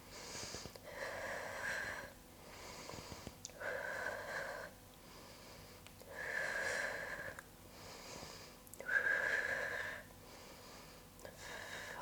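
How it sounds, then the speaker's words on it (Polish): A person breathes heavily during a strength workout with no pole, giving slow, rhythmic, wheezy inhales through the nose and exhales through the mouth, close and fairly quiet, with soft talk now and then. "Wdech nosem, wydech ustami"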